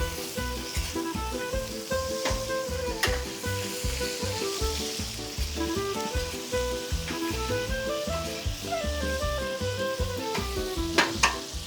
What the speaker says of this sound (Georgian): და ნელ-ნელა დავიწყოთ ბადრიჯნის შემოწევა